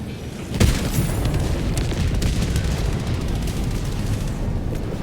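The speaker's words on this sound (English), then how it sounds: "you could drop the equivalent of a tactical nuke on your foes" A heavy in-game blast from Helldivers 2, the equivalent of a tactical nuke, hits with one sharp boom followed by a long, loud rumbling roar and scattered crackling debris.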